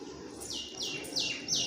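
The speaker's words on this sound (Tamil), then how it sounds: "குயில் கத்துற சவுண்டு" An Asian koel calls outdoors in a village near Sivakasi, giving four rising whistled notes in a steady series, moderately distant and clear over quiet background.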